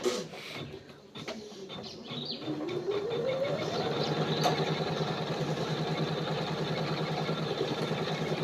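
A sewing machine runs steadily while stitching a patch onto a suit, its motor rising in pitch at the start and then holding a loud, continuous mechanical whir after a few faint taps.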